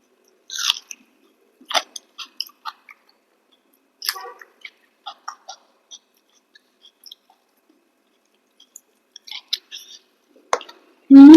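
Soft, close mouth sounds of chewing rice mixed with mashed potato and pigeon pea dal, irregular wet bites and squishes separated by quiet pauses, ending in a short loud burst.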